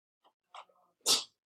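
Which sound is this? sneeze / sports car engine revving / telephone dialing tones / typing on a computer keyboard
sneeze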